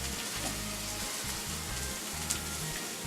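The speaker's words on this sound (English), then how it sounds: "Be mindful that your pork is cooking." Pork frying in a pan, a steady close sizzle with faint crackles throughout, alone and constant for about three seconds.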